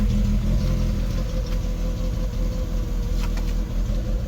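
Close by, the over-fuelling Rover 25 GTI sits at a high, rough idle, its steady rumbling drone carrying a slight unevenness throughout, with no one speaking.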